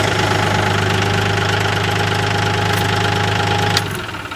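Kioti CK3510 tractor with a common rail diesel, running at a steady, loud, knocking idle with a strong low hum throughout, dropping off sharply near the end as if shut down.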